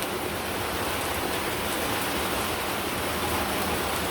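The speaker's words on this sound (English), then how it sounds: "it just suddenly started raining" Steady rain from Hurricane Idalia hisses evenly throughout in the early morning, a dense wash of drops with a faint breath of wind underneath, no voices.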